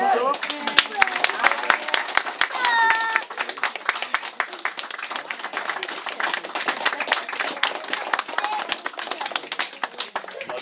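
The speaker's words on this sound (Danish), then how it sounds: "klapper så meget" An audience claps loudly and continuously after a song ends a play, many hands making dense, sharp, irregular claps, with voices and brief shouts mixed in at the start.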